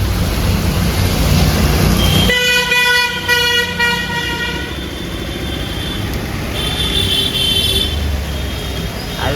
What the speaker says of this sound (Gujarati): હાલો વરસાદમાં ગાડી કાઢે છે